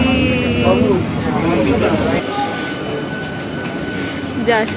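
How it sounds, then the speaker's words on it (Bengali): A passenger train pulls out of Jakpur station bound for Howrah, its cars rumbling steadily with brief metallic wheel squeals nearby, while voices murmur in the background. "জকপুরে আমাদের নামিয়ে দিয়ে ট্রেনটা আবার ছেড়ে চলে গেল হাওড়ার উদ্দেশ্যে"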